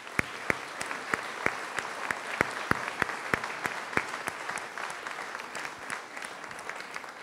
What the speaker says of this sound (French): je voudrais aussi, s'il vous plaît, qu'on les applaudisse